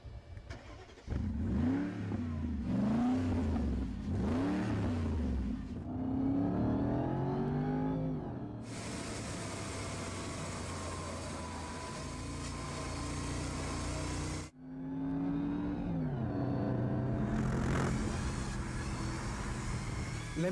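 A Mercedes-Benz SLR McLaren with an AMG-prepared V8 revs repeatedly in sharp, rising bursts, then holds a sustained high-pitched wail before cutting off and roaring up again, loud and close.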